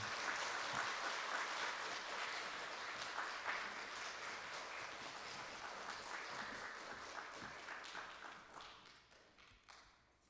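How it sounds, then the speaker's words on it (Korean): A church congregation at a Wednesday worship service applauds to welcome a missionary, a soft, dense wash of clapping from a sizeable room that holds steady and then tapers off near the end. "환영과 축복의 박수로 한번 맞이해 주셨으면 좋겠습니다"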